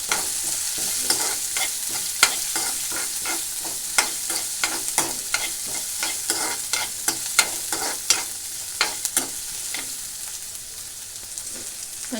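Cumin and mustard seeds fry in oil for a Telugu ivy gourd curry, giving a steady sizzle broken by many sharp pops and crackles throughout, close and clear with no talk.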